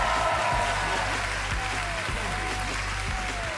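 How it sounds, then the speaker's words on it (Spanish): A Got Talent Chile audition audience applauds during a magic act, with a steady wash of clapping filling the hall and faint voices and tones beneath. "El aplauso de todos."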